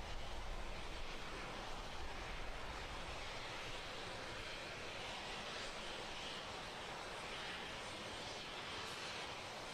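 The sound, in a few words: SpaceX rocket engines during CRS-14 launch ascent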